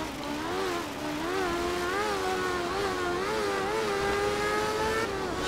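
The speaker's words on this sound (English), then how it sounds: "Just hear the noise of the engine." Group 3 rally car racing a wet stage in Kenya in the art of rally video game, its engine droning steadily with rising and falling pitch as it revs through gear changes, loud and continuous, with no talk.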